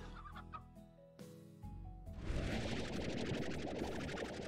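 Stony hens from the video game Slime Rancher cluck repeatedly, a dense flock of chicken-like clucks that swells loud and continuous after a quieter stretch with soft game music.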